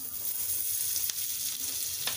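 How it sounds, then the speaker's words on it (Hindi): Butter sizzling on a hot tawa, a close continuous hiss and crackle with a couple of faint taps, no talking. "अब मैंने एक तवा लिया है, उस पे मैं थोड़ा सा बटर डालूंगी।"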